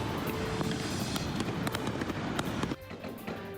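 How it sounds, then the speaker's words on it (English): Rapid, dense crackling and popping bursts of fireworks going off nonstop in city streets at night, loud and fairly close, with a few sharper bangs standing out. "Fireworks in the streets, in the skies, and at all hours"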